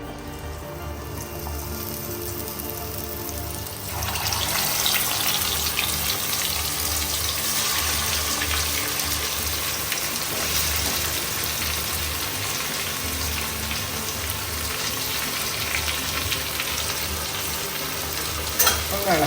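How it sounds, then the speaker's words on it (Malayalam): Chicken pieces fry in hot oil for a Thalassery-style no-salt dish, a steady close sizzle with stirring. It starts softer and jumps to a loud, dense crackle around four seconds in, then holds at that level. "ചിക്കൻ നമ്മൾ ഇടുമ്പം നല്ല ഹോട്ട് ഓയിലായിരിക്കണം"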